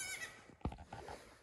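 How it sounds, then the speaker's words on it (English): Baby goats in a barn on a cold winter morning, heard as one short, sharp bleating cry that stands out mid-clip over quieter rustling and faint calls. "Screaming baby goats makes me happy."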